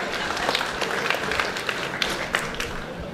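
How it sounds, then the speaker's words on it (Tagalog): Crowd applause at a Filipino rap battle, a dense steady patter of many hands with scattered sharper claps running throughout. "Barbs, palakpak naman kayo konti."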